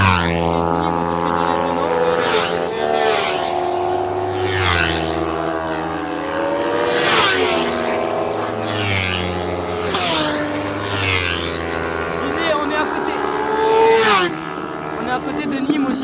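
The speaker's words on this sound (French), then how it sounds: "Des motos qui passent tout simplement" Motorcycles pass one after another on the 3 km Lédenon race circuit near Nîmes, each engine whining up and sweeping down in pitch as it goes by, in a steady run of passes.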